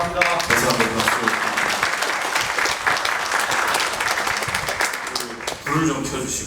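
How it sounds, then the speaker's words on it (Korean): An audience at a seminar on smart ports and global logistics breaks into sustained applause, dense and steady for several seconds, with a voice speaking at the start and again near the end. "다시 한번 박수."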